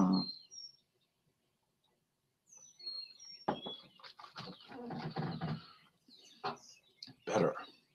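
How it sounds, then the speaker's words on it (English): Birds chirp and whistle at daybreak in short, high calls, clear at the start and again midway, mixed with nearby rustling and other moderately loud activity. "Oh, finally daylight is dawning. Hear those birds?"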